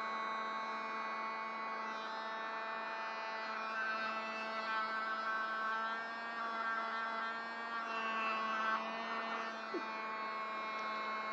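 A small handheld mini vacuum runs close by in a binaural role-play setting, giving a steady, even motor whir with a low hum that holds throughout, with no talking.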